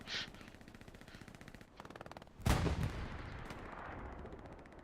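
Gunfire in a World War II shooter game: a rapid machine gun burst rattles at first, then a loud blast cuts in partway through, followed by scattered shots and a lingering rumble. Several reports sound somewhat distant.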